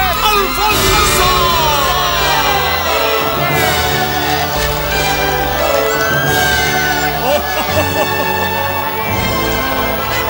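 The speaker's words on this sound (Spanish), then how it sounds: "Fuerte el aplauso para presentar a la señorita Flor Viterbo y al señor Peter Alfonso." Lively crowd at a festive gathering greeting two people being introduced, a loud mix of cheering, whoops, shouts and children's voices over background music and chatter.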